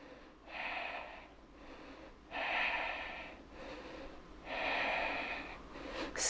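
Forceful exhaled breaths during a beginner cardio yoga flow come as three loud, close, breathy rushes with short pauses between them and no talking.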